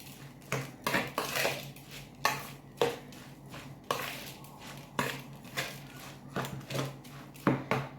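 Metal spoon clinking and scraping against a pot while stirring artichoke dolma filling with egg and salt, a series of sharp close taps and clatters in an irregular rhythm, with no talking.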